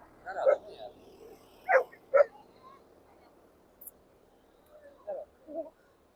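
A dog at the beach barks several times, with short separate woofs and a couple of softer yips spread across the moment, fairly near, with voices around.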